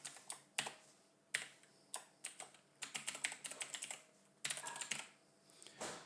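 An email address is typed on a computer keyboard in irregular bursts of crisp, close key clicks with short pauses between groups, in an otherwise quiet room.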